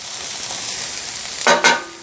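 Onions and other vegetables sizzle steadily on a flat griddle, a close, even hiss that swells briefly near the end as food is moved or added.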